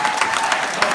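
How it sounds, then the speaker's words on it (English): Audience applause for visitors standing at a storytelling talk, a dense, steady wash of many hands clapping at close range for about a second, with a few sharper claps poking through. "Can we give them a good round of applause?"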